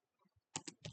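Typing on a computer keyboard, a few soft taps followed by a quick cluster of louder, close key presses within under a second.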